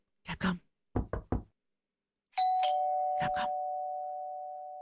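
Three sharp knocks on a door, a short pause, then three quick knocks again, followed by a loud electronic doorbell chime that rings out and slowly fades, with another double rap heard over the ringing tone.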